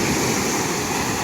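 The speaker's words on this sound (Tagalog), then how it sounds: "Dambuhala ang mga alon" Huge ocean waves on a beach where fishing boats are landing, a loud, continuous roaring wash of surf, close and steady with no talk.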